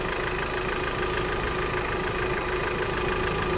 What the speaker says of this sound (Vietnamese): máy nổ rất là đầm và rất là chắc anh chị ha